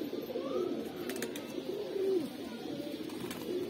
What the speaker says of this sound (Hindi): बहुत ही प्यारा कबूतर है, नायाब कबूतर है ये